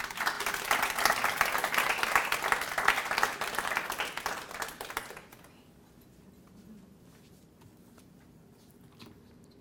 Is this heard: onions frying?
no